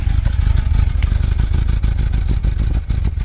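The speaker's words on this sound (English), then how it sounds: "that cylinder is not firing, which causes it to have horrific idle" Honda Civic FG2 engine with a leaking exhaust valve running on three cylinders, idling roughly with an uneven, lumpy low rumble that stays loud and close throughout.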